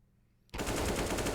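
Gunfire in Counter-Strike on the Mirage map during a professional match: after a moment of near quiet, a dense, continuous burst of rapid shots starts abruptly and keeps going.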